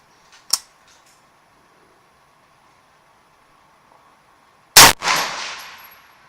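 A single loud rifle shot fired while zeroing an ATN X Sight II scope cracks sharply and trails off in a brief echoing decay, after a faint click and near silence.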